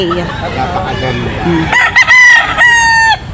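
Gamefowl, a sweater and a stag, are heard close by: clucks and low calls give way to one loud, full cock-a-doodle-doo crow in the second half.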